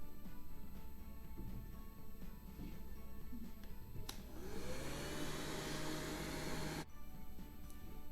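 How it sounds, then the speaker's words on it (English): Hair dryer blown over a watercolor painting to speed drying, switching on abruptly with a rising whine and steady rushing airflow for about three seconds before cutting off, quiet room tone around it. "I'm going to get my hairdryer out and dry it a little faster"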